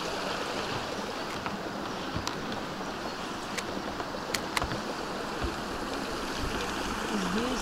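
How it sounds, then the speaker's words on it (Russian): Steady rushing of a mountain stream in the Altai Mountains flowing nearby, a constant wash of water with occasional small splashes and ticks, no voices. "Ручьи из-под горы."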